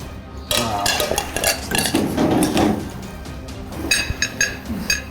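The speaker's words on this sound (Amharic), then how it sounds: "7 ደቂቃ ከ48 ሰከንድ እየቀራት ሳህኖቿን መደርደር ጀምራለች።" Ceramic plates and cutlery clink and clatter close by as dishes are set down and shuffled during a timed cooking competition, in busy irregular bursts.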